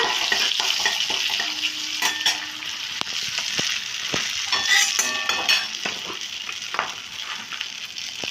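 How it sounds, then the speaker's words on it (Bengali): Bay leaves, whole garam masala and a torn dried red chilli frying in hot oil for a prawn and banana-flower curry: a steady close sizzle and crackle with occasional spoon scrapes and clinks against the pan, no talking. "দুটো তেজপাতা দিলাম দেখুন আর একটা শুকনো লঙ্কা আমি চিড়ে দিলাম দিয়ে এটা একটুখানি ভেজে নিচ্ছি"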